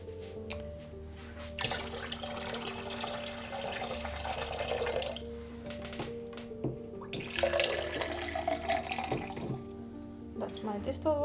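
Distilled water runs and splashes steadily while vitreous enamel grains are rinsed in a workshop, with fuller pouring bursts partway through.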